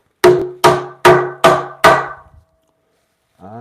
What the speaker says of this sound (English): Let me give it a little bit more hammering.